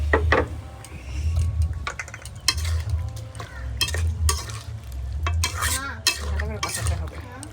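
Pieces of country chicken are stir-fried in a pan, a loud sizzle over a low burner rumble with frequent clattering scrapes and knocks of the spatula, close and busy.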